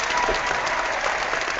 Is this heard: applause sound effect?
yes